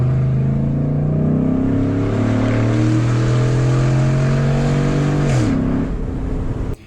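A Ford Raptor truck with a modified intake and exhaust revs hard and steadily, its engine note rising, holding, then dropping near the end, loud and close with no talking.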